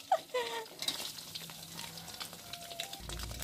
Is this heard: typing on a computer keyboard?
no